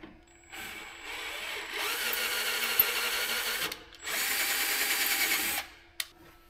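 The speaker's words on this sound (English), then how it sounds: "Gonna chase these threads." Bolt threads chased with a tap on crane parts, two sustained bursts of loud close mechanical whirring with ratcheting texture, separated by a brief pause, ending with a sharp click.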